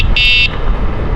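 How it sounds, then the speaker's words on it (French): A short, bright electronic beep from the horn of an AUSOM GoSoul 2 Pro 48V electric scooter, sounding once for about a third of a second over low road rumble. "ça klaxonne fort comme un scooter"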